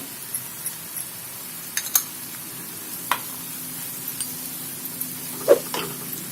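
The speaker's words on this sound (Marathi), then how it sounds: "आणि मीठ हे सर्व आपल्याला दोन मिनिट भाजून घ्यायचंय" Garam masala, onion-garlic masala and salt dry-roasting in a pan with coriander, heard as a quiet sizzle with occasional spoon scrapes and light clinks against the metal, close by.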